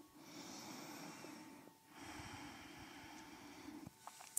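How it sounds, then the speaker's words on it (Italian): Slow, deep breaths during a Pilates exercise on a mat, a long airy inhale then a second drawn-out breath, close and faint, with no talking. "Ancora un respiro profondo qui."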